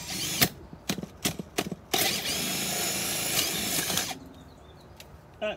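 Power drill boring a hole into a 4-inch soil stack pipe for a bathroom sink waste connection: several short bursts of drilling, then a steady sustained run of about two seconds, close and loud, no talk.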